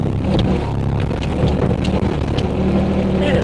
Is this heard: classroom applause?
no